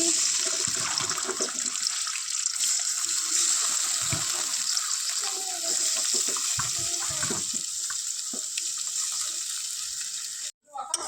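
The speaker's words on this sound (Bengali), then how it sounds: "এবার আমি মাছগুলা দিয়ে দিচ্ছি" Small puti fish fry in hot oil in a wok, a loud, steady crackling sizzle that holds unbroken for about ten seconds before briefly cutting out near the end.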